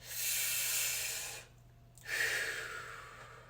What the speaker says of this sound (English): That breathing pattern is a reverse breathing pattern.